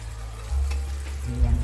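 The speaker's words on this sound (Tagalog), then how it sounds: "Ayan lang po natin siya kumulo ng kumulo." Broth for a milkfish (bangus) dish bubbles at a rolling boil in a pot, a close, steady bubbling hiss that swells slightly partway through, with no voices.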